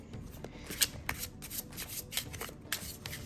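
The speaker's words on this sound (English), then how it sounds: "Beautiful shuffle." A tarot card deck is riffle-shuffled up close in a quick series of crisp, papery ripples and flutters lasting a few seconds, with no talk over it.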